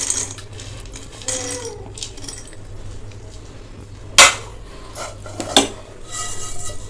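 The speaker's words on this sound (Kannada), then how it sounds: "ಇದು ಜಾರ್ಗೆ ಹಾಕೋತಾ ಇದ್ದೀನಿ" Peeled peanuts and sesame seeds tipped into a mixer jar give a few light rattles and clinks, with two sharper clatters standing out over a low steady background hum.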